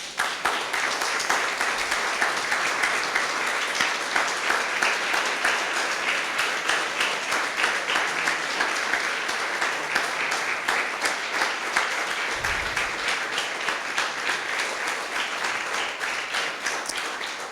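Sustained applause from a church congregation honoring the Lord, dense and steady throughout, with broadband clapping holding level from start to finish and no speech over it.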